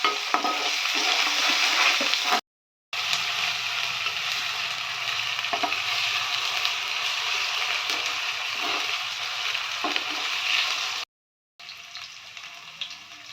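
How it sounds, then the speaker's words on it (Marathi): Ginger garlic paste frying in hot oil in a pan, stirred throughout, a loud continuous sizzle with scraping and stirring noises, cut by two short silent gaps. "आपण त्याच्यामध्ये अद्रक लसूणची पेस्ट टाकूया आणि हे सुद्धा ह्याचा कच्चा वास जाईपर्यंत आपण तेलात चांगलं मिसळून घेऊया।"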